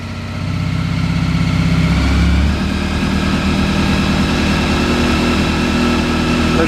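A Honda motorcycle engine idles and revs with a deep, throbbing exhaust rumble, loud and continuous, rising briefly before settling into a steady burble.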